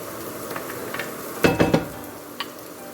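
Green and white onion sautes in oil for a vegetable stir-fry, a soft sizzle broken by a few quick scraping stirs of a utensil against the pan near the middle, fairly quiet and with no voices.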